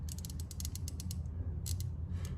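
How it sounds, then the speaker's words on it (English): A small 1/4 inch drive ratchet turning a socket on a 2018 Ford Edge Sport, rapid close clicking bursts of the pawl over a low steady hum, with no talk. "I'm basically going to use this little bitty 1/4 inch drive ratchet"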